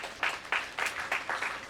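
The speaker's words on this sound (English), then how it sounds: "Please give him a very, very warm round of applause." Audience at a tax seminar on capital gains welcoming the day's speaker onto the dais with a short burst of clapping, heard as distinct rhythmic claps of a small group, close and moderately loud.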